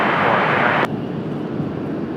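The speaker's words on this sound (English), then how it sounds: "Couple of exec jets." Business jets at Washington Dulles airport give off a broad engine roar that drops suddenly in loudness partway through, leaving a lower, steady rumble afterward.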